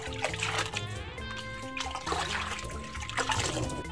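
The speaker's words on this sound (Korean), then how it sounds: "흐트러뜨리지 말고 이렇게 차곤차곤 깐똥하게 씻어 주셔요." Freshly picked stone water dropwort (minari) being rinsed in water, with continuous splashing, trickling and swishing close by, along with a faint background tone.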